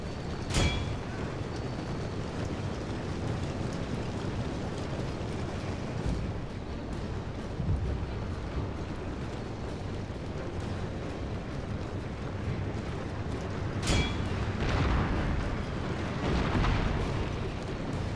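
Cannons firing in a battle in the video game Shogun 2: Fall of the Samurai, with a couple of sharp booms standing out over a dense, continuous rumble of distant battle noise, no voices present.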